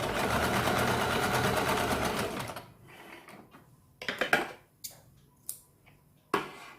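A sewing machine stitches a katori blouse in a fast, rattling run for a couple of seconds, then stops, leaving scattered light clicks and handling noises.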